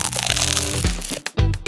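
Crackers crunching in a radio snack advert, a few close, crisp bites and crackles, one sharp crunch near the end set off by a brief gap.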